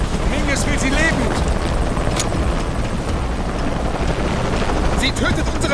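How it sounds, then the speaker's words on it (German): Helicopter from the video game Shadow of the Tomb Raider, a steady loud rotor drone running throughout with game voices talking over it and scattered combat noises. "Ich hab Helikopter."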